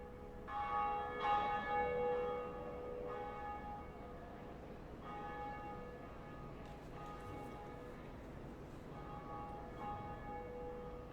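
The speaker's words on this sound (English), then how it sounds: "We're going to ring this bell." A bell rung at the top of a bell tower in Dark Souls Remastered gives several clear, ringing tolls at intervals. Each strike lingers and fades over a quiet, steady background.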